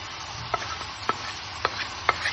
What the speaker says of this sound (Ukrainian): Помішуючи все разом, смажимо 10 хвилин.